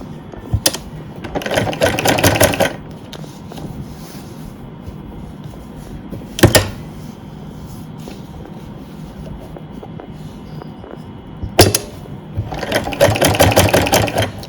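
Sewing machine stitching salwar fabric, running in loud, steady rhythmic bursts with short pauses and sharp mechanical clicks between them, close up and with no talk.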